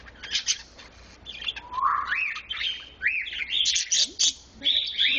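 A pet bird in its cage chirps and tweets in short bright bursts, fairly close and fairly loud, with rising whistled calls repeating across the stretch and no talk over it.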